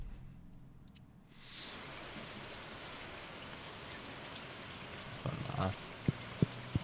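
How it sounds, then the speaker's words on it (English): Rain falls in the farming video game Stardew Valley, a steady, soft wash of drizzle that swells in after a quiet start, with a few faint clicks near the end. "Sounds like it's raining,"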